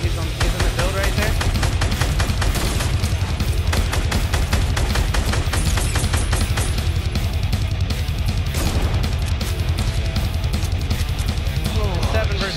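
Rapid, sustained automatic gunfire in a 50v50 shooter match, loud and continuous bursts close by, with more shots and game sounds layered underneath and voices talking over it.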